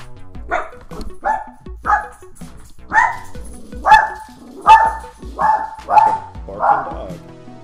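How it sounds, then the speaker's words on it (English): A dog barks close by in a rapid run of about nine sharp, evenly spaced barks, loud and clear over a quiet background. "Barking"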